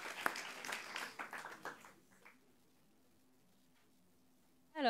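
Brief applause from the audience at a quiz event for young clinicians, a short burst of clapping that fades away after about two seconds, leaving near silence before a sudden loud sound at the end.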